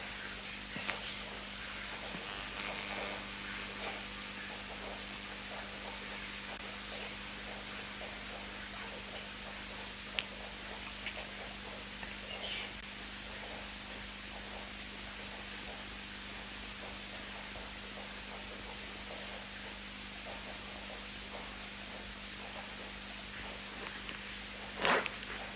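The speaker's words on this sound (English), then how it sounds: "Everyone is taking cover from this rain." Steady rain falls outdoors during a sunset safari, a constant wash of hiss with scattered faint drips and a low steady hum beneath, holding level throughout.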